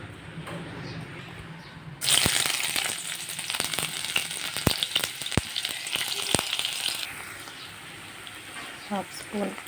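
Hot oil bursts into a loud, hissing sizzle as onions go into a pan with 1.5 tablespoons of oil, with scattered clinks of a spoon against the pan.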